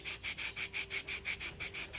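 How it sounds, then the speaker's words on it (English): Steady back-and-forth sanding of hard epoxy on a car body with 180-grit paper, about a dozen even rasping strokes in a quick regular rhythm, close up with nothing else heard. "We're sanding that off with 180"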